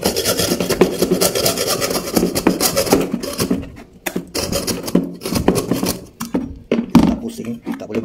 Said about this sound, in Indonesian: Agak susah juga memotong nih karena tempatnya tidak rata.